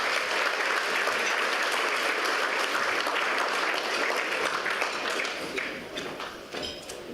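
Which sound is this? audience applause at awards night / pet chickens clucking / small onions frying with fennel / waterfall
audience applause at awards night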